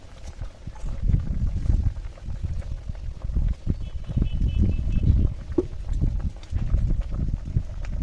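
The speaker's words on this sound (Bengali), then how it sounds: "বড়াগুলো দিয়ে বেশ খানিকক্ষণ ফুটিয়ে নিয়েছি" A pot of vegetable fritters (bora) in a village-style jol bora dish boils steadily, its low bubbling and simmering going on without a break. No voices are present.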